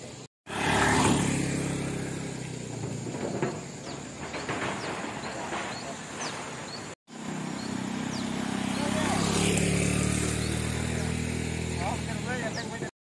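A motorcycle taxi hauls wood across a suspension bridge in rural Central Kalimantan, its engine droning nearby and rising and falling under ongoing talk, with a brief cut midway and birds faintly in the background.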